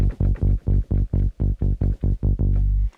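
Synth bass from the Diva plugin on a Mini Poly-style patch plays a single saw-wave line without chords, about a dozen punchy repeated notes in a steady rhythm, the last one held before cutting off.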